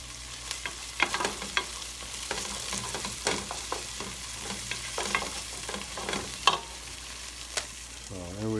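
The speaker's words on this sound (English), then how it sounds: "I'm just cooking some vegetable chili here" Vegetable chili cooking in a pot, with a scattered run of soft sizzling and the scrape and clatter of stirring at irregular intervals, close by and moderately quiet, with no voices.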